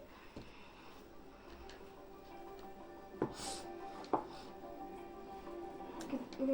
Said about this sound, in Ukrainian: Ось я нарізаю, я нарезаю другий кружочок ковбаси